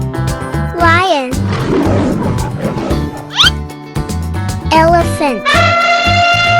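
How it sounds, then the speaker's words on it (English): A cartoon lion roars over lively children's cartoon music, with a child-like voice and sliding whistle-like effects mixed in, the roar sitting loud and close within a dense, continuous soundtrack. "lion"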